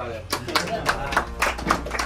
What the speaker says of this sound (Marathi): टाळ्या वगैरे.